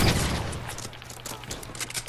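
Gunfire in the Fortnite battle royale game, a dense rattle of shots with a heavy thump at the start, then scattered fainter pops over a steady low hum.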